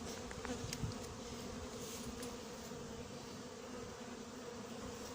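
A dense, continuous buzzing of hornets swarming around beehives, steady and fairly close with a few sharper ticks near the start.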